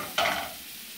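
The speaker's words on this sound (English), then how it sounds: "So you have here about 2 tablespoons of butter. Then you're going to let that melt." About two tablespoons of butter heat in a pan for searing scallops and lobster tail, with one short burst of sizzle that quickly fades into a soft, steady hiss.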